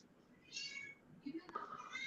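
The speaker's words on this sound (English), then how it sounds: "He's picking up those cats again." Cats meow through a computer connection, several drawn-out meows overlapping with low background noise and faint voices.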